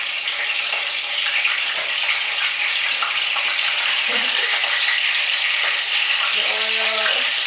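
Frozen fish balls sizzle in hot oil, a dense, steady crackling hiss that runs the whole time with a few faint clinks and low bubbles near the end.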